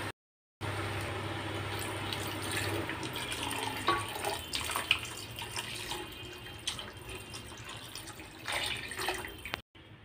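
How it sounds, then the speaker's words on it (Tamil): Milk pours into rice in a cooking pot with a soft, continuous liquid splashing that is fairly quiet and close, with brief silent gaps at the start and end. "இப்போ நான் 3 டம்ளர் பால் எடுத்து வச்சிருக்கேன் 1/2 டம்ளர் அரிசிக்கு இத சேர்த்துக்கலாம்"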